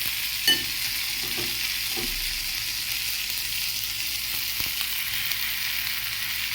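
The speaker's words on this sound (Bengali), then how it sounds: "নাড়িয়ে নেব আবার সবজিগুলো দিয়ে দেব" Vegetables fry in a pan with a continuous bright sizzle, punctuated by a few soft scrapes and knocks of a spoon stirring them, close and steady throughout with no talking.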